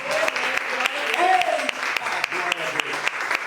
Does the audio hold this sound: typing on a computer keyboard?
no